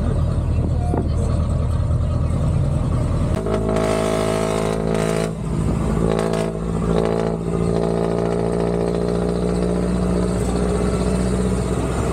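A jeepney's engine drones steadily through a packed ride toward the airport, with a deeper, louder rumble kicking in after a few seconds as the vehicle pulls away and keeps running continuously.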